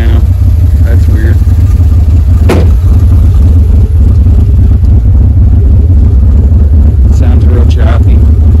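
A cammed Dodge LA SB360 V8 with Magnaflow exhaust idles loud and close in a choppy, lumpy rumble, with a brief blip partway through and people talking over it.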